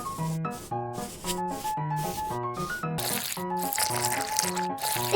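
Eel pieces tossed and coated in flour, soft crinkling and rustling scrapes repeating steadily under a prominent musical backing, the dry rubbing growing busier toward the end.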